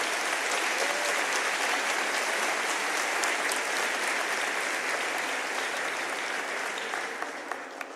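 Church congregation claps in a dense, sustained round of applause at even loudness, tapering off in the last second with a few scattered final claps.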